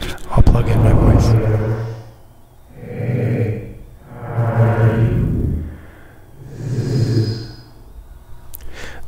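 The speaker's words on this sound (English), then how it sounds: "This is reverse reverb, and it's actually pretty good." A voice run through a reverse reverb effect swells in four slow, rising washes, each building out of nothing to a loud, blurred peak before cutting off. No clear words come through.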